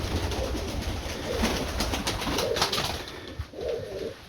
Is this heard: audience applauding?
no